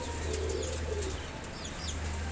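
Teddy pigeons coo softly in a loft or stand, a few low murmuring calls with light chirps over a steady low hum and constant background noise; no talking.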